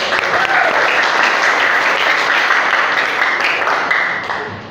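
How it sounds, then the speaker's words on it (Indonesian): A classroom full of students applauds together, a dense, loud burst of clapping that holds steady for several seconds before tapering off. "Tepuk tangan kita semua."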